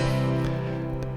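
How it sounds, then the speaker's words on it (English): Bright, honky-tonk style tack piano patch on a Yamaha MODX keyboard, a sustained chord ringing steadily and fairly loud for about a second, with a light new attack near the end. "A tack piano, or the tacky."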